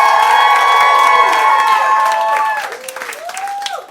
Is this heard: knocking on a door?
no